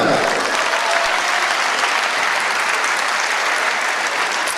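Sustained audience applause fills the hall at a 2013 disability awards ceremony, loud and steady throughout with dense clapping and no break.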